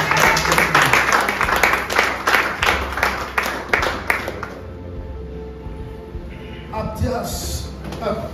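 A church congregation claps in rhythmic bursts during a worship service, the clapping dense and steady for several seconds before fading into lighter scattered claps and voices.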